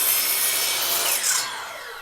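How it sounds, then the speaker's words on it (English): A miter saw makes an angled cut through wood trim with a zero clearance fence fitted, giving a loud, steady close-up rasp of blade on wood for about two seconds that tails off at the end. "Take your trim, line it up, and make the cut."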